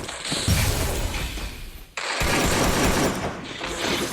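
AK-47 automatic fire in a video game rattles in two loud, dense bursts, split by a brief pause near the middle, sounding harsh and close.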